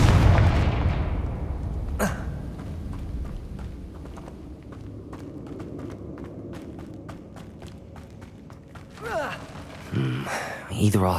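A Confringo explosion spell in Hogwarts Legacy bursts loudly at the start and fades into rumbling, followed by a sharp crack, rapid clicking impacts and further bursts near the end.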